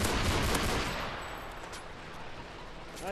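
Dragunov rifle fire in a video game, a loud burst of rapid close shots at the start that fades into a rumbling tail, then quieter scattered game sounds.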